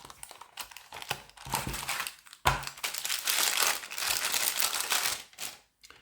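Spigen phone case packaging for an iPhone 14 Pro is torn open and handled up close, giving irregular crinkling, crackling plastic and paper rustles with sharp snaps and short pauses.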